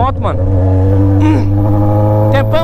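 A Yamaha XJ6 motorcycle engine revs up and drops back several times nearby, rising and falling pitch over a constant low drone, with a voice briefly over it.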